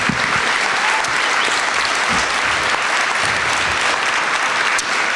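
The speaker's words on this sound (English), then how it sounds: "let's give one more big round of applause to all of our winners this evening, everybody." An awards-evening audience at the 2018 Eclipse Integrity Awards in Dayton applauds the winners, loud continuous clapping from a large room full of people, sustained from start to finish.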